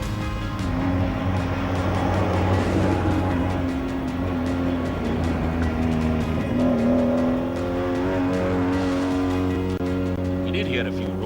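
Rally-ready SUVs and Jeeps at the Agra Taj Car Rally idle and rev in a steady, loud engine drone with sustained low harmonic tones, swelling slightly mid-way, with voices mixed into the noise throughout.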